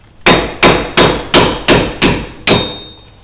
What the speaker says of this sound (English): take your trusty hammer